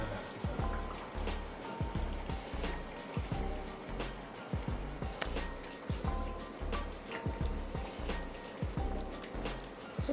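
A pot of Nigerian jollof rice tomato sauce boils hard at high heat, giving a steady bubbling and popping with irregular plops and low thumps, close and continuous.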